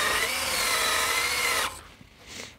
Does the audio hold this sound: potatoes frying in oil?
no